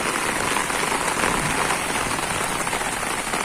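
A heavy summer downpour falls on a garden in Kyiv region in June, with a walnut tree nearby, a steady, dense rush of rain hitting leaves and ground, close and unbroken, with no speech.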